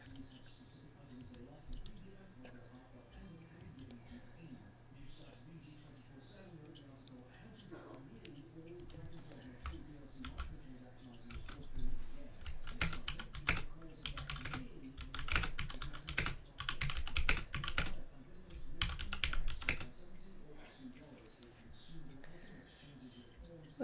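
Computer keyboard typing, steady light clicking at first, then bursts of louder, faster keystrokes midway, with a person talking intermittently over it.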